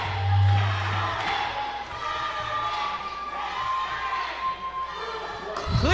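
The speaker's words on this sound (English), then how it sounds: "Listen to this crowd." Crowd noise at a live professional wrestling event, a steady roar of cheering filling the arena throughout, with a brief louder burst near the end.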